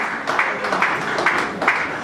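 Wedding guests clap together in a steady rhythmic pattern, with a stronger burst roughly every half second under a continuous wash of clapping, at moderate loudness.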